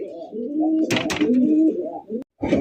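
High-flyer Giribaz pigeons coo in a steady, low, rolling murmur, broken by a couple of brief flurries that sound like wing flutters, then a short pause before the cooing resumes.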